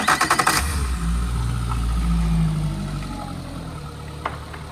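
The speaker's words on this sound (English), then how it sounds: "Let's quickly start it up and I'll show you. Runs quite smooth." A boat engine running without its cowling sputters through a few rapid cranking bursts, then catches and settles into a loud, steady, close-up drone with a slight rise and fall in pitch.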